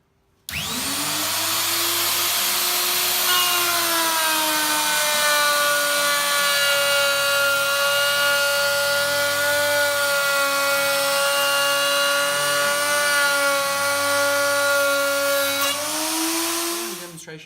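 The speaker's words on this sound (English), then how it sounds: "just how simple it is to cut a 10mm groove the whole way along a piece of 90" Router cuts a 10mm groove the full length of a 90 by 90mm timber in a jig, one continuous loud whine that spins up, holds steady and winds down at the end.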